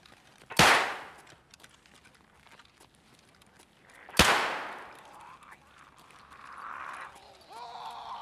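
Two sharp gunshots ring out about three and a half seconds apart in Escape from Tarkov, each a loud broadband crack with a short decaying tail, set against quiet ambience and some faint movement noise.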